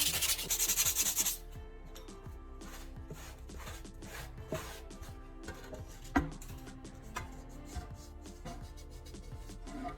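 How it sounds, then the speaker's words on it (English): Fine sandpaper rubbing over a hardened repair patch set into tile, a steady close scratchy rasp that runs continuously, louder in the first second and then softer with occasional knocks. "Take some fine sandpaper and smooth the surface until it blends in"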